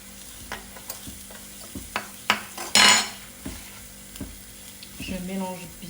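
Tomato paste being stirred through pasta in a hot pan, with a steady sizzle under repeated sharp scrapes and clinks of a utensil against the pan, one louder burst midway.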